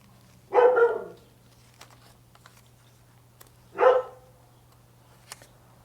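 Cash the dog barks twice, a few seconds apart, from a moderate distance through an open studio door, with quiet faint clicks in between.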